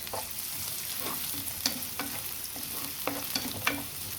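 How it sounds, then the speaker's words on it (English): Vegetables sizzle and crackle steadily in a hot pan, with occasional scraping clicks of a utensil as they are stirred. "So you're stir frying your veggies for a bit"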